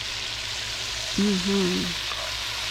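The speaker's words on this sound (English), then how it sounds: "so that's his onions going, and then he's going to start browning those" Onions frying and starting to brown in a pan, a continuous close hiss of sizzling with a brief tonal squeak midway, no talking.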